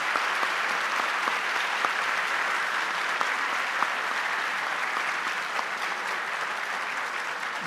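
A panel audience claps steadily for several seconds, a dense and even patter of many hands that sounds moderately distant and continues with no voices over it.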